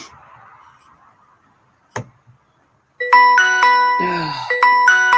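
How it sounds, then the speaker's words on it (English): A doorbell-like electronic chime rings out, bright, loud and tonal, with repeating notes and a falling sweep in the middle, after a quiet stretch with faint murmuring voices and a single sharp knock. "Man, that sounds like your doorbell."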